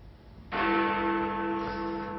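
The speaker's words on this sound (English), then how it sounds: "I'm talking about the Big Ben bongs when they sound on BBC Radio 4" Big Ben's deep bell strikes a single loud bong with a long ringing decay, as broadcast on BBC Radio 4, heard alone after a half-second of quiet.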